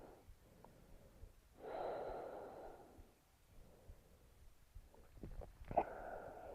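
Slow, soft breathing during a morning yoga practice: a few faint, drawn-out inhales and exhales spaced a couple of seconds apart, close and quiet.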